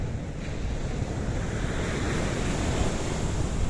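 Wind buffets the microphone while ocean surf rolls steadily at a Portuguese beach, a broad continuous wash of waves and gusts with no voices.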